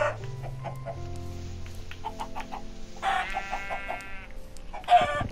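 A chicken in a video game clucks and squawks in short repeated bursts, with a high rooster-like call near the end, heard over a low droning game background without talk.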